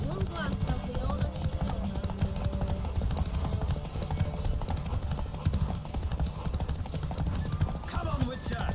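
Rapid, rhythmic hoofbeats of a galloping horse in The Witcher 3 run steadily throughout, close and fairly loud, with faint background sounds layered underneath.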